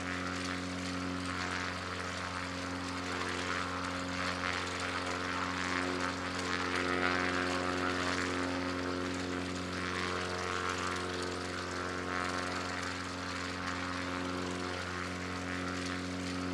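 A propeller-driven NX Cub drones steadily in a flight simulator game over the Scottish Highlands, its engine hum continuous and even at moderate loudness with no talk over it.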